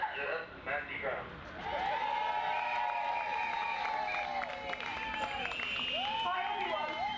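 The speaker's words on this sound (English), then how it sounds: "can we have a round of applause" Crowd applause and cheering at a college picket rally on a picket line, steady clapping from a nearby audience with whoops and voices mixed in throughout.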